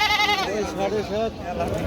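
A local deshi goat bleats at a busy livestock market in Bamondi, giving a close, wavering run of repeated cries with crowd noise behind.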